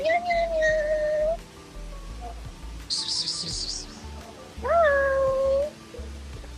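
A cat meows near the microphone twice, clear drawn-out calls separated by a pause, with a brief bright rattle and faint background noise between them; no voices are heard.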